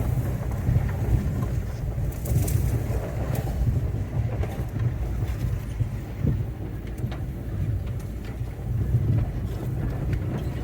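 A ride-on mower rumbles low and steady as it ploughs through long, overgrown undergrowth around a pond in first gear. Brush rustles against it throughout, with no talk.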